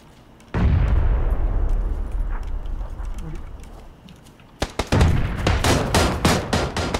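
Gunfire and a grenade blast in a PlayerUnknown's Battlegrounds match: a loud, sustained rumble of explosion and fire, then a dense burst of rapid, close gunshots, with players talking over the action.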